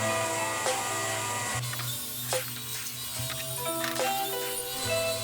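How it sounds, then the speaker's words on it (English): A power drill or driver whirs in repeated bursts while screws go into wooden table pieces during an outfeed table build, with a steady mechanical hum and shifting motor pitch throughout. "and now I am screwing it all together."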